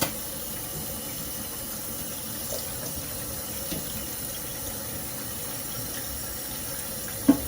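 Tap water running steadily into a sink while peppers are washed for palm oil moi-moi, an even hiss throughout with a brief clatter near the end, no voices.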